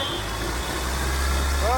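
Hyundai Verna fluidic diesel engine running close by with steady low rumble, rising slightly as the accelerator is pressed, without any voices over it.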